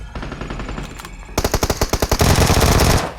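Automatic gunfire in PUBG Mobile, first a quieter distant rattle, then a loud close burst of rapid, evenly spaced shots that runs into a dense roaring volley before cutting off.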